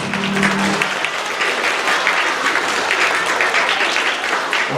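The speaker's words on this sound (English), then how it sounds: "Give yourself a round of applause." Elementary school assembly audience of children giving a sustained round of applause, dense steady clapping that fills the hall from start to finish.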